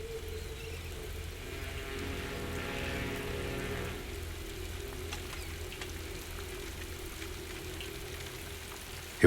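Rain falls steadily on a surface, making a soft, even patter and hiss that lasts the whole time with no voices.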